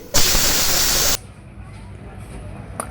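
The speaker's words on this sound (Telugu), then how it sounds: "కుక్కర్ మూత పెట్టుకొని ఒక 4-5 విజిల్స్ రావాలి." A pressure cooker on a stove, cooking goat-head curry, releases steam through its whistle in one loud, steady hiss lasting about a second, then cuts off to a quiet background.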